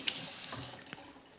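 A kitchen tap runs briefly as hands are wetted under it, a close, steady hiss of flowing water with a faint splash, quiet and alone.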